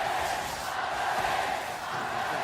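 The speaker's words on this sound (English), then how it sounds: "Feel the crowd only getting louder." A large esports arena crowd roars steadily at the 2017 League of Legends World Championship quarter-final, a dense, sustained wall of cheering that swells slightly without a break.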